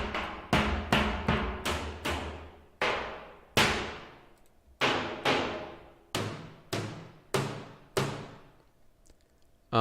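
Trailer percussion samples with an abrasive, gritty edge: a string of loud, hard hits, several fast strikes then evenly spaced single impacts, each decaying with a bright noisy tail, alone with no talk.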